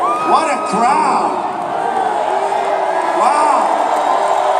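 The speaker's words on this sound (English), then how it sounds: "What a crowd." A huge sellout crowd at a Donald Trump rally roars continuously, with whoops and shouted voices swelling in a loud, dense wash that fills the whole stretch.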